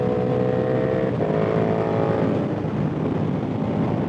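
A KTM 1290 Super Duke GT on Metzeler Roadtec 01 SE tires pulls hard out of a corner, its engine droning and climbing in pitch under steady wind rush, heard from the rider's position.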